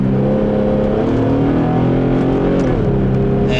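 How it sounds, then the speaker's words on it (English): A 2005 Infiniti G35x's engine hums steadily from inside the cabin on a test drive with an automatic gearbox, its tone rising through a gear and then dipping at a crisp shift; loud and continuous with no talk. "the engine is quieter in this car. It just sounds really good."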